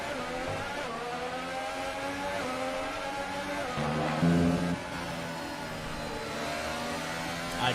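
Williams Formula 1 car engine idling and holding revs at a practice start in the F1 2018 racing game, a steady harmonic drone with a brief louder surge midway.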